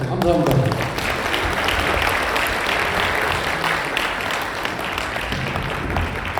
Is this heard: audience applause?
yes